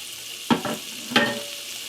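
Celery drops into a pot of hot bacon fat and sizzles steadily, with two sharp bursts as the pieces hit the fat about half a second apart, close and fairly loud, with no voices.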